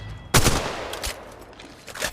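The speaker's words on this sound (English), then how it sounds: "Shots fired at the hostile." Bursts of gunfire in the mobile shooter Conflict Apex: a loud opening volley followed by several shorter, fainter shots spread across the clip, with no talk over them.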